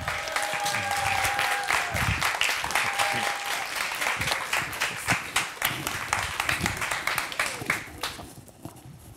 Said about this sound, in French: Mesdames et messieurs, je vous demande d'applaudir Mike Harms.